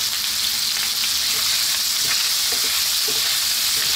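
Ginger and garlic sizzle steadily in hot oil in a pan for pork adobo with coconut milk, with a dense, close frying hiss and soft scrapes of stirring throughout, and no talk.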